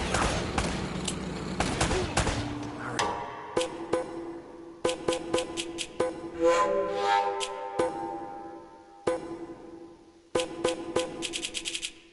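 Gunfire rings out in the video game Uncharted in sharp bursts of rapid shots. Loud volleys are split by short pauses, with ringing tones and effects between them, and there is no talking.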